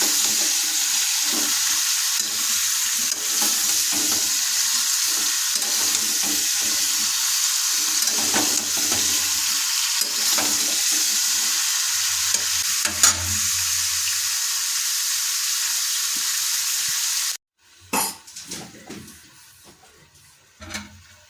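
Vegetables sizzle loudly in a wok for a long stretch, punctuated by scraping stirs, then the frying cuts off into quieter clatter.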